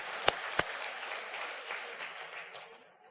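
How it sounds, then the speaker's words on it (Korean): A church congregation at a Sunday worship service breaks into applause, opening with two sharp, close claps before a broad wash of clapping swells and fades out within a few seconds. "하나님께 영광의 박수 올려드립니다."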